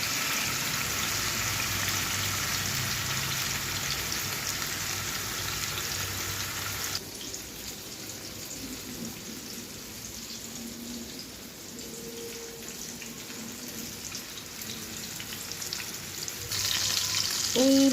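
Pieces of hilsa fish fry lightly in hot oil, giving a steady, close sizzle that runs throughout; the crackle briefly softens partway through, then continues unbroken.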